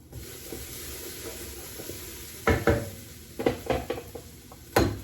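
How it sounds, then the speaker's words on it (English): Vegetables being stirred in a pan on the stove, a low sizzle with several sharp scrapes and clanks of a utensil against the pan, close and clear with no talking. "Let me give our veggies a stir."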